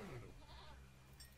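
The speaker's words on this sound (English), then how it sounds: "A goat!" A goat bleats in a video game, a single wavering cry sliding downward over steady game background sound, close and fairly quiet.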